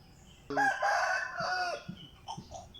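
A large broodcock rooster crows loudly and close by in a yard, a long strained call, followed by a few softer clucks.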